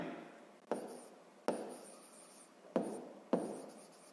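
Chalk or pen strokes on a board or paper during a sixth-grade math lesson: four quick scratchy bursts, each sharp at onset and fading, close and fairly quiet with no talking.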